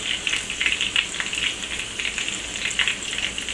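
Shrimp egg rolls fry in oil in a skillet on a grill, giving a steady, close, bright sizzle with crackling pops throughout.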